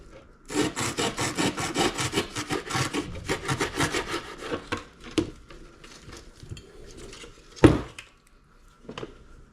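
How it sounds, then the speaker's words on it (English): A serrated knife saws rapidly back and forth through material for a homemade lionfish cage, a steady raspy rhythm of strokes up close, slowing into a few scattered scrapes and a sharp knock near the end. "I'll grab a serrated knife, which cuts through this thing like butter."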